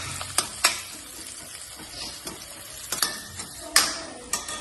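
Onions frying lightly in oil, a soft steady sizzle broken by sharp scrapes and clicks of a stirring spoon against the pan, close and moderately loud with no talking.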